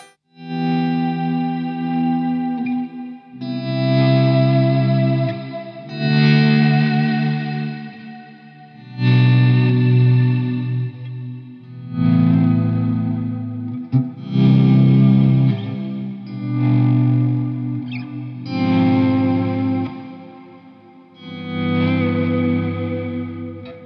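An electric guitar through a Strymon Big Sky reverb pedal on its Cloud preset, notes swelled in with a volume pedal into lush, shimmering washes of modulated reverb, one slow chord bloom after another over about twenty-four seconds, alone.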